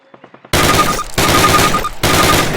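Rapid automatic gunfire from a weapon in the PC game Call of Duty: loud bursts of dense firing, with short gaps between them, preceded by a few quick mechanical clicks.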